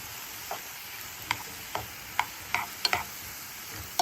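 A spatula stirs scrambled tofu and vegetables in a pan, making a string of short scraping taps about every half second over a soft, steady sizzle. No one speaks.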